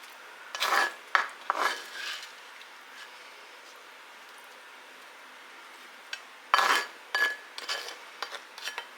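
Scraping and clinking of a utensil against a dish while scooping salsa chicken onto rice, two clusters of rasping scrapes and taps separated by a quiet pause.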